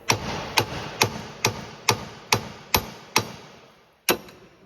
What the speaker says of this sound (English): So we're just going to grab ourselves a big hammer.